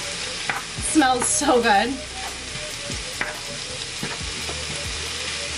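Cauliflower fried rice stirring and frying in a pan, a steady sizzle with scraping stir strokes, a brief spoken remark early on over the cooking.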